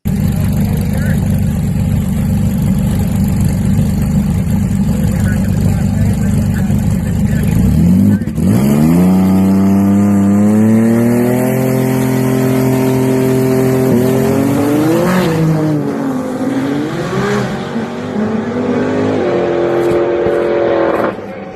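A rear-wheel-drive Fox body car fitted with an engine transplanted from a GTR idles loudly at a cash days racing event, then revs hard and accelerates away, engine pitch climbing steeply with a brief tire squeal.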